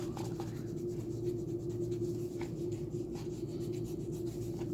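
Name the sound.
eraser scrubbing pencil lines off paper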